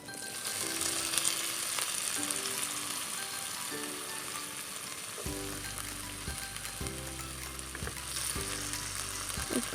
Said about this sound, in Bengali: এই আলুটাকে আমি ভেজে নেব লাল লাল করে